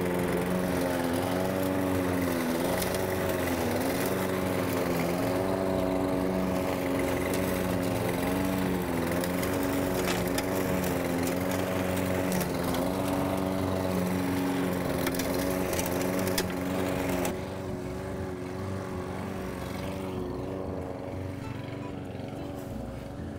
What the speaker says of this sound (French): je démarre la tondeuse, vous allez moins bien m'entendre